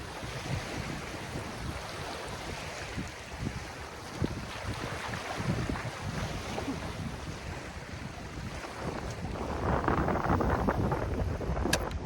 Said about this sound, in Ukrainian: Який вітер сьогодні.